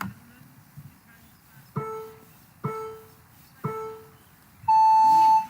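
Three short electronic beeps at even intervals, then a longer higher-pitched tone signalling the start of an FPV drone race, over faint background noise.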